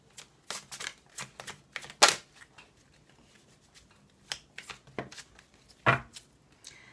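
Fairy oracle cards are shuffled by hand in a quiet room, making a run of light, irregular flicking and riffling taps with no talking.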